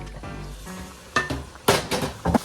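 Eggs and three pounds of ground beef cook in a pan, with a soft sizzle and then several sharp clinks and scrapes of a utensil stirring against the pan.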